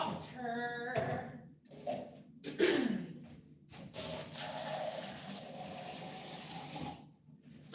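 A kitchen tap runs while vegetables are steamed and dumplings fried during home cooking, producing a few short bursts of handling noise and then a steady, fairly close gush of water lasting several seconds before it cuts off.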